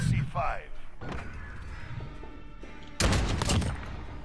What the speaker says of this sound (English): Oh my God, the recoil on his gun.